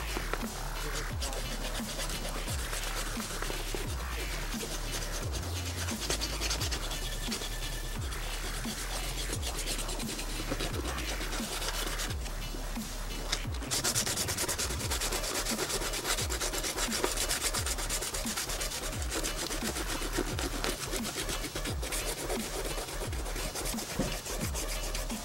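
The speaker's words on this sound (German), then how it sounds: "Jetzt schleife ich nochmal genau in der Form, wo der Flicken ist, richtig schön sauber, auch über die Linie hinaus" Hand sanding of inflatable boat rubber around a patch area, rhythmic close rasping strokes repeating steadily and fairly quietly with no talking.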